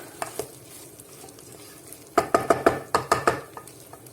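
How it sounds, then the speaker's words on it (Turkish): Rice with salt being sautéed in a pot: soft stirring scrapes, then a quick run of about eight sharp metal spoon clinks against the pot, close and clear over a faint sizzle. "Şimdi güzel kavuracağım iyice."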